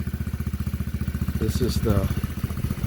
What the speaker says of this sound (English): It's got a really nice sounding engine.